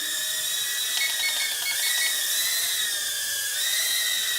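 Eachine E012 ducted fan micro quadcopter hovering close by, a steady high-pitched whine from its tiny ducted fans that wavers slightly in pitch as it drifts, continuous and loud with no talking.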